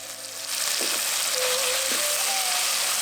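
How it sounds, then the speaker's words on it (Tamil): Crushed shallots, rock salt, curry leaves, cinnamon and cloves sizzle loudly and steadily in hot oil, a dense close frying hiss with a few faint scrapes of stirring. "இதெல்லாத்தையும் நல்லா வதக்கிட்டு 2 பச்சை மிளகாயை சேர்த்துக்கலாம்"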